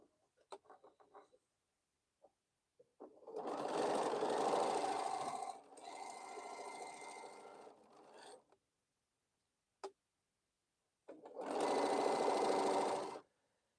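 A sewing machine stitches pieces of a Crown Royal quilt in two long bursts of rapid, even whirring, separated by quiet pauses with small clicks and handling noises, close and moderately loud.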